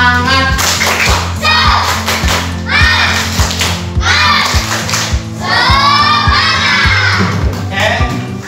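A primary school class performs a rhythmic clap-and-chant cheer with their teacher, children's voices shouting in unison between bursts of synchronized clapping, repeated in several loud patterned phrases.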